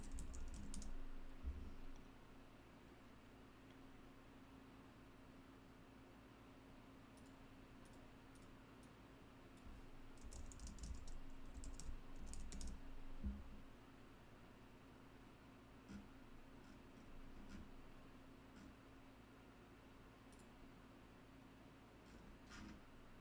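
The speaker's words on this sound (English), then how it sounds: "as I am typing this" Quiet, steady typing on a computer keyboard, soft key clicks in irregular bursts over a low hum, close and faint.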